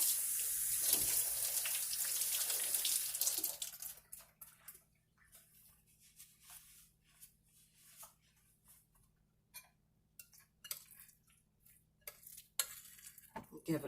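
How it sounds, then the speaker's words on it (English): A kitchen tap runs as hands are rinsed while making sweet potato pie, a loud rushing stream for the first few seconds, then cut off and followed by quiet scattered clinks and taps of dishes and utensils. "And rinse my hands."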